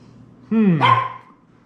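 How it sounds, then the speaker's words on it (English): A single close dog bark, a sharp woof that slides into a short yelp, then silence. "getting yelled at for barking while I'm filming"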